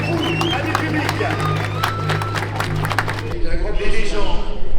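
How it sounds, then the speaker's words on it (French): Crowd applause and cheering fill grandstands at the Charade circuit show after a motorsport exhibition, steady and broad with a low engine-like drone beneath, swelling louder near the end. "Un applaudissement pour les champions, les bénévoles, l'organisation et pour vous, amis publics."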